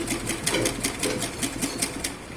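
A sewing machine runs steadily while stitching a cross cut blouse, its rapid needle strokes forming an even, close mechanical chatter throughout.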